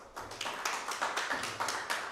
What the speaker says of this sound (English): Round of applause for Miss Phyllis.